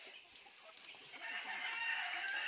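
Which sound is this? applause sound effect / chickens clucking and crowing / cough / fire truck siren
chickens clucking and crowing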